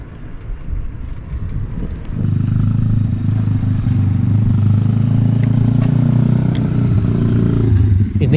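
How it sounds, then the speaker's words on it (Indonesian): A motorcycle being test ridden in a quiet Japanese village; after a couple of seconds its engine settles into a steady, fairly loud, close rumble that continues to the end. "oh ini lagi jajal motor kayaknya"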